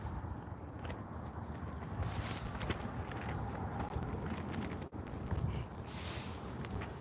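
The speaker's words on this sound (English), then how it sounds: "It's super loud what the wind is." Loud, steady wind buffets the microphone at a tent outdoors, a continuous roaring rumble with brief gusty swells and faint flapping or rustling throughout, no voices.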